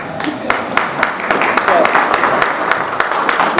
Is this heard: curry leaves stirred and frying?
no